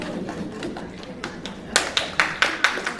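Comedy show audience at a VFW hall in West Fargo, North Dakota, giving scattered claps: a few distinct sharp hand claps in a loose rhythm over low room murmur, sparse rather than a full ovation.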